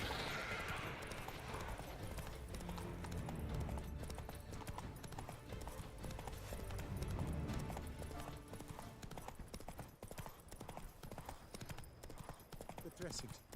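Hooves of the horse Roach clip-clopping in The Witcher 3, a steady galloping rhythm under game music and a voice talking.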